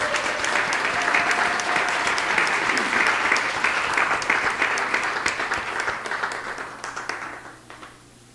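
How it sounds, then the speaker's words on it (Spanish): Sustained audience applause at a poetry reading, loud and dense from the start and tapering off over the last second or two, with no talk over it. "Aplausos."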